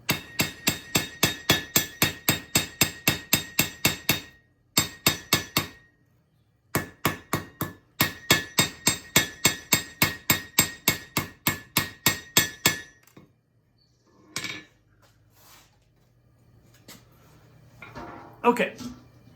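Heavy hammer blows forge a steel knife blade on an anvil, struck in fast, steady bursts of ringing impacts with brief pauses between runs, ending in quieter shuffling and a few scattered knocks.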